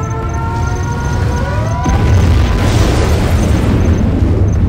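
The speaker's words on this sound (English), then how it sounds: "nuclear missile launched" Nuclear missile detonation in the PC strategy game Command & Conquer Generals, a deep roaring blast that swells and rumbles on loudly after a descending whistle, with no speech.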